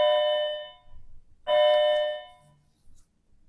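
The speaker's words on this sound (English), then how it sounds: "That's the bell again." A doorbell chimes twice indoors, each ring a clear, bright tone that rings out and fades, with a short pause between them and faint room noise afterward.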